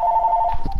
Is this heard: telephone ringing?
yes